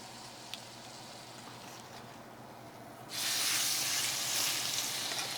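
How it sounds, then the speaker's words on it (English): Chuck steaks, cooked sous vide, laid into a hot pan to sear: after a few quiet seconds a loud, sudden sizzle bursts in and keeps hissing strongly and steadily, close up. "Then we're going to drop these steaks in there."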